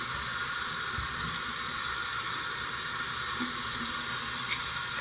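Tap water runs steadily into a sink as makeup brushes are held under the stream to wet them, a constant close hiss and splash throughout with no talk.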